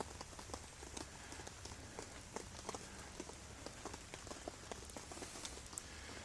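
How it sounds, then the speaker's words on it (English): Soft, gentle rain patters steadily on a Magellan Lakewood Lodge cabin tent, a faint, even hiss dotted with light drop taps and no voices. "it keeps that rain off of the windows, at least during a soft, gentle storm like it is right now"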